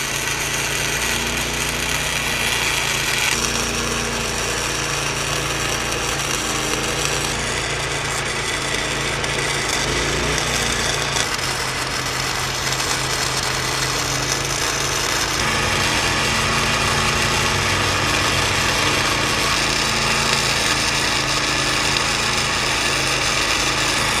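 Welding the sides of a trailer jack, with a continuous harsh buzzing and crackling drone that shifts in tone at several points, loud and close, with no voices.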